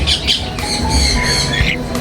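A pet parrot gives several harsh, close squawks and chirps in quick succession over a short moment.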